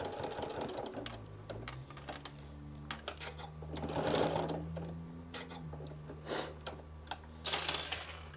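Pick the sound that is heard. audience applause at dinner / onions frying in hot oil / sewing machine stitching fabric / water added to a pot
sewing machine stitching fabric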